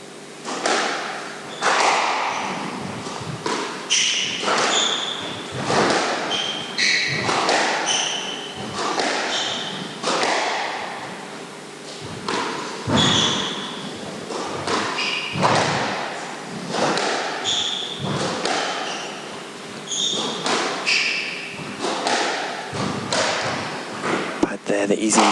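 A professional women's squash rally, with repeated sharp ball thuds off racket and walls in an irregular quick rhythm, sounding under an ongoing commentator's voice.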